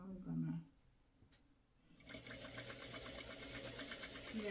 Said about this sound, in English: I'm gonna try and sew my best